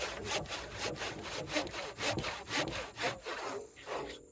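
Hand saw cutting through wood while building a well house, with steady rhythmic rasping strokes roughly twice per second, close up, slowing near the end.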